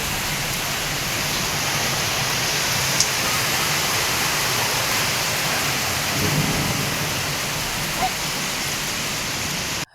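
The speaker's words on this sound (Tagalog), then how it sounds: "Ito naman nung kinabukasan na nga ay maulan yung panahon." Heavy rain pours down in a steady, dense hiss through wet weather, close and loud, with faint rumbling underneath and a couple of small knocks.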